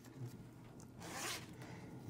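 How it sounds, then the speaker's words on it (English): A fabric zipper is pulled along its track in a quick close-up rasp, with short ticking pulls building to one longer zip, quiet and with no talking. "just like a normal zipper, there's two sides of that zipper that would come out"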